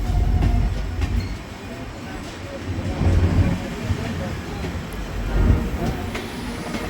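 The 12485 superfast express from Nanded to Sri Ganganagar, hauled by a Kanpur-shed WP7 locomotive, rumbles past with a loud, continuous roar of wheels and carriages that swells twice. Voices are faintly audible nearby.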